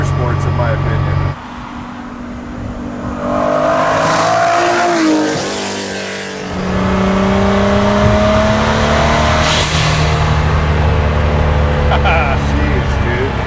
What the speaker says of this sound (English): that was third gear, and I mean, you know how mild I'm being on your accelerator right now